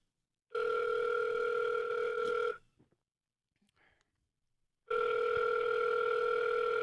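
An outgoing telephone call rings back twice, each a steady two-tone buzzing ring about two seconds long separated by silence, clear and loud with faint background rustle between.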